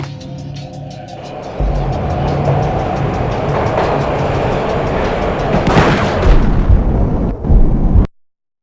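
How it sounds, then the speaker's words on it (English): Train ride in the video game Max Payne, heard as a loud continuous rumble of rolling rail wagons with metallic rattling and a sharp burst near the end before it cuts to silence. "This was my second train ride of the night."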